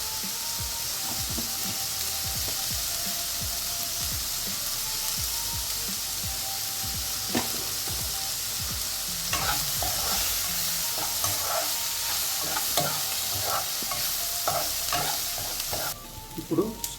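Mustard seeds and asafoetida sizzling in hot oil with onions, a steady close hiss with scattered pops and crackles that grow busier toward the end, no talking.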